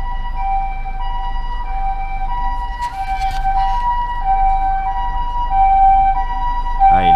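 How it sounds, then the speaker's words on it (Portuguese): An ambulance siren wails steadily and loudly through a busy street during a Halloween crowd event in Nagoya, with the tone holding close and strong throughout. "A ambulância vindo atrás na correria ali."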